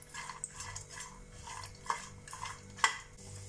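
Cashews stirred with spices in a hot pan give a short run of close scraping and rustling strokes, with a couple of sharper clinks of the spoon against the metal.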